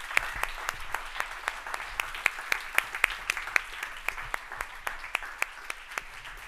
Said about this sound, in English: Let's have a big round of applause, please, everybody.